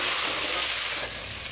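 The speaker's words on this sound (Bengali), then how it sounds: "এখানে কিছু কুচো পেঁয়াজ কেটে রেখেছিলাম, ওটা ফোড়নে দিলাম" Chopped onion sizzles steadily in hot oil as the base for a Bengali fish curry, a loud, dense frying hiss close up that eases slightly toward the end, with no talking.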